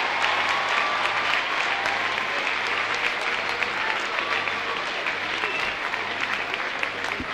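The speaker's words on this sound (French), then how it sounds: "ils méritent nos applaudissements, mais applaudissez après la traduction" A church audience at Beauraing applauds the volunteers in a dense, continuous wash of clapping that holds steady throughout, close and full.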